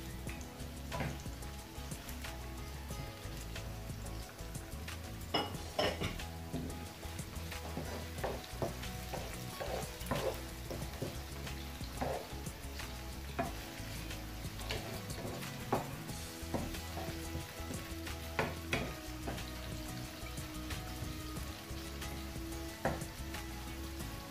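Turnips and other vegetables for crunchy vegetable noodles stir-fry in a pan with a steady sizzle and frequent stirring scrapes and clatters throughout, no voices.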